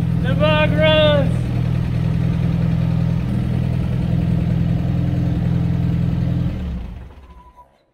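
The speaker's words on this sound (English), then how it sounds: "That thing, carburetor works great, idles, fires up, sounds good." A VW Bug engine idles after being restarted, holding a steady low rumble that fades out near the end, with a brief voice heard at the start.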